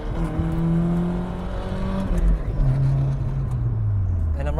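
A 1990 Nissan 240SX with a swapped differential and HKS catback exhaust pulls hard from inside the cabin, the engine note rising steadily and then easing off as it shifts, loud and close with no talking.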